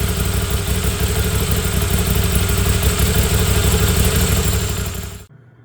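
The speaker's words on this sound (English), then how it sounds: "So I've started the engine." A Moto Guzzi V7 850 Special motorcycle engine idles right after an oil change, a steady close rumbling drone with mechanical clatter that runs evenly for five seconds before cutting off abruptly.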